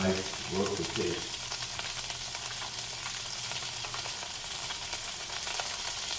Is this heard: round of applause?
no